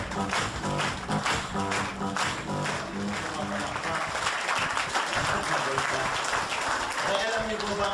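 An audience at a live presentation applauds a welcomed guest, a steady round of clapping running throughout, with a speaker's voice over it.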